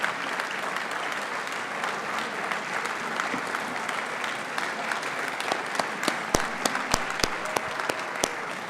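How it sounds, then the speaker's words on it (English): Audience at a real estate hall of fame banquet applauding board members, sustained dense clapping throughout with a few sharper individual claps standing out near the end. "I'd just like to have a round of applause for you all"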